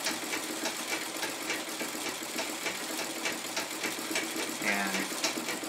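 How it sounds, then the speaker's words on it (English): Foot-powered treadle sewing machine stitching embroidery on fabric, running with a continuous close mechanical whir and rapid rhythmic needle clatter, its speed varying slightly throughout. "based on how fast I move my foot on the treadle and how fast I move my hands to move the fabric."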